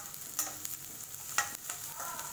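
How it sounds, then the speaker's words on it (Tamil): Onions sautéing in a pan, a faint steady sizzle with a few soft scraping strokes of a stirring utensil, quiet and without talk. "வெங்காயம் நல்லா வதங்கிடுச்சு."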